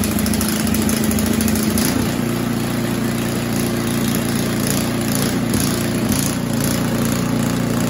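An Ariens Compact 24 snow thrower engine runs loud and steady in a cold shop, a continuous close mechanical drone with a constant hum throughout.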